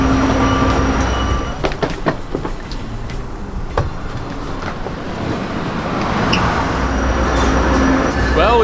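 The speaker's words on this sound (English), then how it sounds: "Once the train comes to a complete stop" A passenger train rumbles and clanks as it slows to a stop at a Chicago station, with metallic squeals and brake hiss near the end, loud and close.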